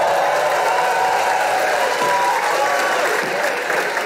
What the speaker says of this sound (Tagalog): Palakpak kayo ng palakpak,